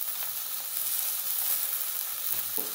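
Potatoes and drumstick stalks frying in oil with spices, giving a steady, close hiss of sizzling that fills the whole stretch, with a couple of faint stirring scrapes near the end.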